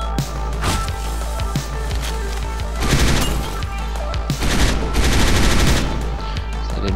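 Machine gun fire in the video game Hotline Miami 2, loud and continuous rapid bursts with heavy impacts, swelling into denser volleys in a couple of places.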